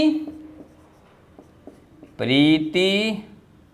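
Chalk or marker scratches and taps on a board during a reasoning lesson, a few short faint strokes under a steady hum, followed by a loud spoken phrase from the teacher.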